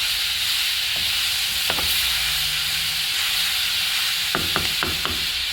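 Cabbage sizzles steadily in a pan with a soft hiss, steaming in its own water, and a few clinks and scrapes of a utensil stirring it.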